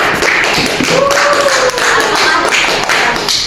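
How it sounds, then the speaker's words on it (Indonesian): A small group claps, scattered and uneven hand claps close by for a few seconds. "Berikan tepuk tangan."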